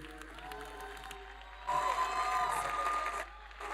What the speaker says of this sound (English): Oh, come on, don't stop clapping.